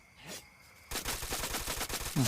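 A long shotgun fires in the Free Fire video game at close range. Rapid, loud gunfire bursts arrive after a quieter first second and carry on densely to the end.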